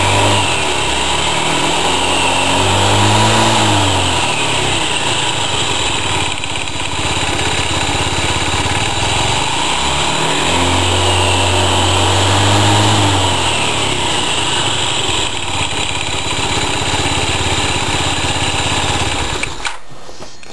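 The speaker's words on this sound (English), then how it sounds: "as I increase the throttle, check the belt moving" A Yamaha C3 scooter engine runs loud and close with its transmission exposed, rising in two slow swells as the throttle opens and then easing back toward idle between them.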